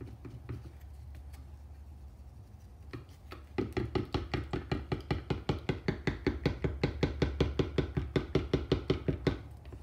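Acrylic paint mixed with Floetrol is stirred in a cup. After a quiet start, a brisk, even run of close tapping scrapes from the stirrer repeats rapidly for several seconds, with no talking.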